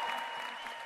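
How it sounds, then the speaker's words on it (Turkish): Studio applause for Derya, a home cook opening her kitchen on a cooking show, a brief, faint, even patter of clapping. "Bir alkış Derya'ya."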